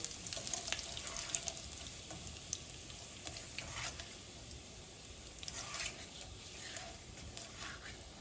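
Chili flakes frying in a pan of oil for chili oil: a soft continuous sizzle with faint crackles and pops, quiet and steady throughout.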